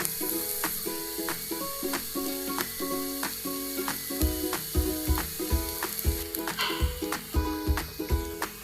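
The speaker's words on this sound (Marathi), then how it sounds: "याला आपण शॅलो फ्राय करून घेणार आहोत।" Coriander vadi shallow frying in oil in a pan, giving a steady close sizzle throughout, with a regular rhythmic beat and tones running underneath.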